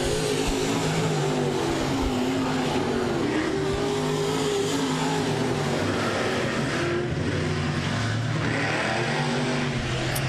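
Race cars at I-37 Speedway roar around the track, engines rising and falling as they accelerate and pass by, a continuous loud blend of revving with occasional tire squeal and no talking.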